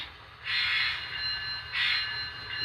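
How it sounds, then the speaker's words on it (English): A Union Pacific ET44AC model locomotive from ScaleTrains rolls past on a model layout, giving two bright hissing, squealing swells of wheel noise, close and fairly loud, with no talking. "This is a Scale Trains. I believe it's a ET44 AC. Yes, ET44 AC. Union Pacific Scale Trains."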